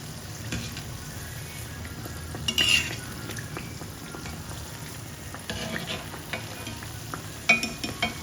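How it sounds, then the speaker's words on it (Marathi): Anarsa, sweet rice-flour cakes, frying in hot oil at home for a festival, a steady close sizzle with light stirring and a few brief spoon clinks over it. "तर हे तुम्ही असे एकाच साईडने असं अनारसा काढू शकता पण आम्ही दोन्ही साईडने असे फ्राय करतो"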